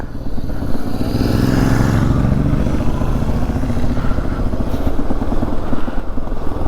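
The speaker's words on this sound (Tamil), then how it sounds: "நான் இப்போ வெறும் செகண்ட் கியரில் தாங்கி போயிட்டு தான் இருக்கேன்" A motorcycle rolls down the Kalhatti ghat road in second gear with failed brakes, its engine droning loud and steady at close range with a rough, rattling low throb and no speech.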